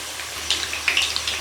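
Potato slices coated in pakora batter frying in hot oil, a steady hiss and crackle with scattered sharper pops, fairly close and moderately loud, no voices.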